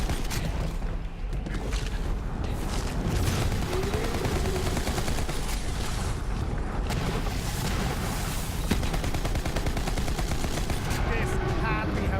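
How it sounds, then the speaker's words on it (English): Constant shooting fills a Borderlands 3 boss fight as a dense, unbroken wash of gunfire and mechanical clatter, fairly loud throughout, with a character's voice talking over it. "Nothing like cover when you're getting shot at."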